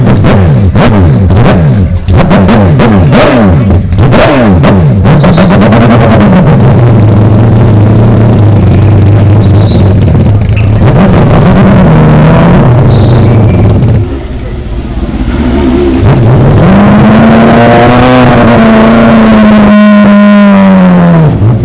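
Mazda rotary race cars scream past on track at the Rolex Monterey Motorsports Reunion, loud high-pitched engines revving and rising and falling in pitch as they pass close by, one after another, with a brief lull between.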